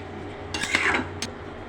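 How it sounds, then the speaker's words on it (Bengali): A spoon scrapes and clinks against a pan while ground spinach paste is stirred with turmeric and chili, two brief metallic bursts close up over quiet background. "পালং শাক বাটাটা দিয়ে দিব। ভালো করে নেড়ে নিব, হলুদ মরিচের সঙ্গে ভালো করে মিশিয়ে যাবে।"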